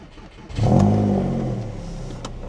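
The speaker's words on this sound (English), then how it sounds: "Cold start." An Audi A6, left neglected for months, cold-starts with its exhaust close by: a brief crank, then a loud rise as the engine catches and revs, easing down into a rough, steady idle.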